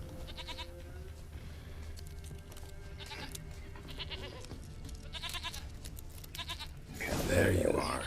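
A goat bleats in The Witcher 3, short wavering cries repeating over a game soundscape, with a louder burst near the end and someone talking over much of it.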